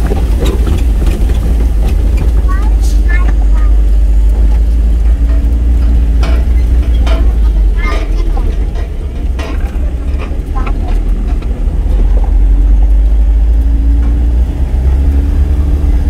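A motorcycle climbs a steep, rough road near Puerto Galera, its engine close and loud, a constant heavy rumble with rattling bumps and shifting pitch throughout, no clear talk over it.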